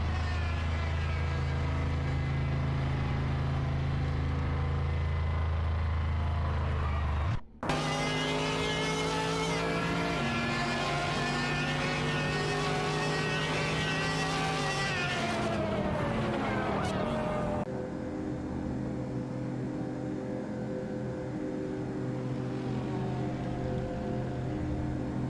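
Race cars from a racing video game roar past in a loud, continuous engine drone. The pitch climbs and drops with gear shifts and acceleration, and a brief cut breaks the sound early on.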